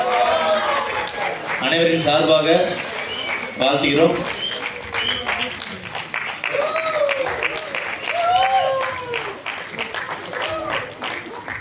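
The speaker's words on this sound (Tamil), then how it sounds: "நல்ல ஒரு கைத்தட்டலோடு" An audience claps at a film music launch event, with scattered applause under an amplified host's voice, which speaks over most of the clapping.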